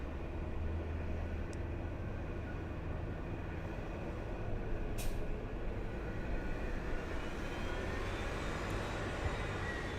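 A China Airlines Cargo freighter aircraft rumbles steadily at a distance, producing a broad, constant engine roar with no breaks or voices.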